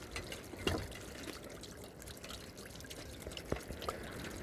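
Water trickles and drips steadily from a burst geyser as it drains, with a few sharper plinks and splashes standing out over a continuous soft flow.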